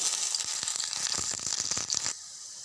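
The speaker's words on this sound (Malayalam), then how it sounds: "കടുക് പൊട്ടി വരുമ്പോൾ കൊച്ചുള്ളി ഇടാം." Shallots sizzling in a spoonful of coconut oil with popping mustard seeds in a clay pot for Kerala anchovy thoran, a close, bright hiss with crackling pops that stops abruptly near the end.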